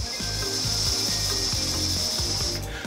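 The purge valve on a cheap hookah clicks and rattles in quick repeated mechanical bursts, loud and close over a constant hiss, with no talking.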